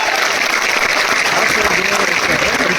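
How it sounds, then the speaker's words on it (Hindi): A crowd at a literary festival in Major Dhyan Chand Stadium applauds in honour of a guru: steady, continuous clapping with a busy crowd murmur throughout, loud and unbroken. "जरा एक बार फिर से गुरु जी के सम्मान में तालियां।"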